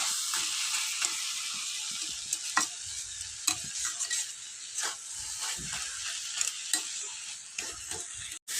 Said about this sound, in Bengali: এই যে পাতাগুলো ভাজা প্রায় হয়ে আসছে